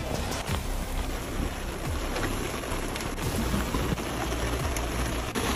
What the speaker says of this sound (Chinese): 这个雨越来越大了